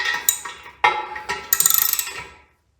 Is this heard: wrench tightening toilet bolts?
yes